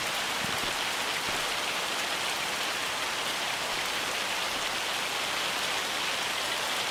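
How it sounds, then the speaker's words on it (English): Hailstorm in the video game Farming Simulator 25, heard as a steady, dense patter of ice pellets drumming on surfaces. It runs loud and unbroken for the whole stretch, with no voices over it. "Uh-oh, here comes the hail."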